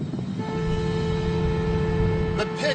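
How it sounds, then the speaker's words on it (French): A car horn sounds one long, steady, unbroken note over the rumble of the moving car, close and loud. "Ça va être amusant. Je vais klaxonner."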